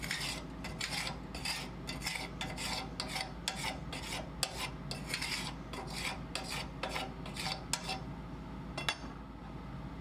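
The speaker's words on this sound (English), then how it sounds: "You're then going to take the Harman scraper tool and scrape down the burn pot" A metal scraper tool rasps carbon buildup off the burn pot of a pellet stove in quick, repeated strokes, a close, steady scratching rhythm with no talk.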